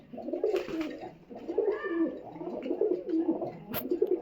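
Soft, repeated pigeon coos rolling in low, throaty phrases, close by, with a faint high chirp near the end.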